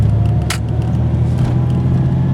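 A 1996 vehicle with a newly installed fan clutch rolling downhill, a steady low engine drone and road rumble heard from inside the cab, with a brief click near the start.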